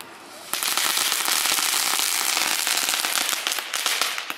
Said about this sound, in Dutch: Een knetterfonteintje.